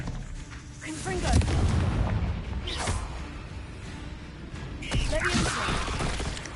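Spell effects from the video game Hogwarts Legacy crackle and boom in quick succession, with bursts and blasts layered over one another, while a voice calls out between them.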